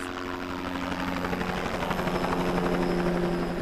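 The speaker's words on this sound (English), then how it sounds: "a helicopter flew over the orchard all morning to try and bring that warmer air down to save the crops" A helicopter flies low over a fruit orchard during a spring freeze to push warmer air down onto the trees, its rotor thumping in a loud steady drone that swells slightly as it nears.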